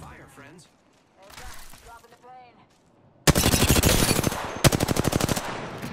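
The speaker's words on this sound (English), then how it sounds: "Yeah, that's the charge rifle right there." Charge rifle fire in the video game Apex Legends: after a stretch of voices talking, a loud sustained burst of rapid shots erupts, pauses briefly, then resumes with a second rattling volley.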